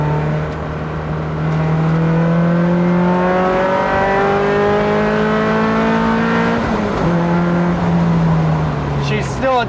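A Toyota MR2 with a swapped-in Camry engine accelerates hard from inside the cabin, its loud engine note climbing steadily through the gears with a brief dip at a shift, while people talk over it.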